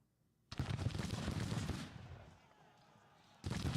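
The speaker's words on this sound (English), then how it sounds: "But we've opened fire with infantry now." Civil War infantry volleys in Grand Tactician: The Civil War at the Battle of St. Louis, a dense crackling burst of musket fire lasting over a second, fading, then a fresh volley starting at the end.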